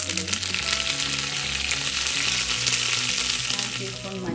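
Fenugreek, green chilli and curry leaves crackle and sizzle in hot oil in a pan, a dense, fairly loud frying hiss that runs without pause over a faint low hum.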